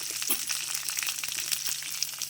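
Onion, ginger and garlic sauté in hot oil in a pan, a dense steady sizzle and crackle throughout with occasional stirring scrapes, close and fairly loud.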